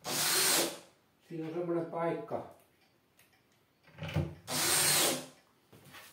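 A power drill drives screws to fix plinth legs onto a kitchen cabinet during a log-house kitchen build. Two short, loud whirring bursts are separated by someone speaking Finnish.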